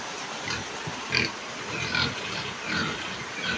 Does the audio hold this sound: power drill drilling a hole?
no